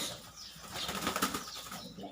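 Racing pigeon wings flap in a quick burst of fluttering beats, fairly close, with light rustling as the bird takes off.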